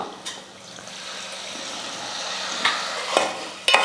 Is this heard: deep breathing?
no